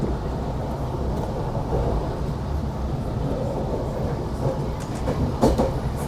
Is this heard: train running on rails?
yes